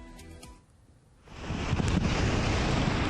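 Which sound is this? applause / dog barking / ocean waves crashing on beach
ocean waves crashing on beach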